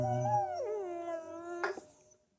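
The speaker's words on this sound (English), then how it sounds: "Poor dog." A dog in a short film whimpers, then lets out a long wavering howl that slides down in pitch and holds, ending with a brief rough yelp before fading into quiet.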